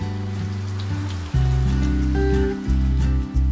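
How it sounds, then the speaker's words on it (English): A sudden rain shower in Guangdong, China, patters steadily on surfaces nearby, with low rumbling tones and shifting background noise underneath and no one speaking. "It's raining. Suddenly."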